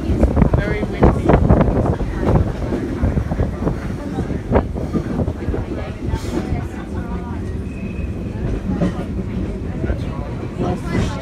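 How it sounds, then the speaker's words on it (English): Strong wind buffets the microphone outdoors with continuous low rumbling gusts, loud and close, while people talk intermittently underneath. "Very windy."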